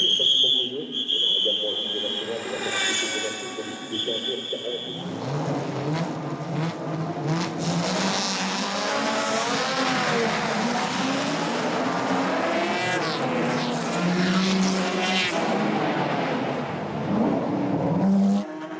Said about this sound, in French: Voir des voitures passer aussi près de nous à une vitesse comme ça